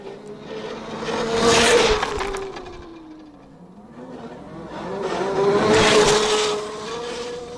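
Electric all-terrain vehicle crossing a field, a high motor whine rising and falling in two surges with rustling and scraping of the ground, fairly close and with no talking.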